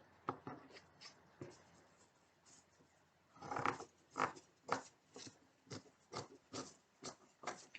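Fabric pieces are cut for foundation paper piecing, with soft, crisp cutting snips that come in a quick, regular series in the second half of the clip after a few scattered ones. The room is quiet and no one talks.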